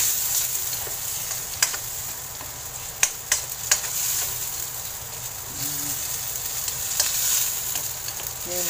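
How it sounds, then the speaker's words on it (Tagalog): Tomato paste sizzles and fries steadily in a pan while a utensil scrapes and taps against it a few times, a constant frying hiss with occasional clicks close by. "Mas gusto ko na ginigisa yung tomato paste bago ko lagyan ng sabaw"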